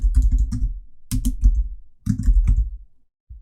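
Typing on a computer keyboard while adding text in Photoshop, with three close, loud bursts of rapid key clicks separated by short pauses and a single keystroke at the end.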